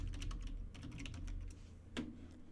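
Quick bursts of keystrokes on a computer keyboard as a phrase is entered into a text field, light clicks in irregular clusters with a short pause and one final louder tap, close and quiet.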